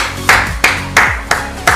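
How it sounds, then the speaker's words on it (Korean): A single person claps five times at an even, unhurried pace during a Freestyle 2 street basketball game session, each clap sharp, loud and close. "박수 한번 주십시오, 여러분들."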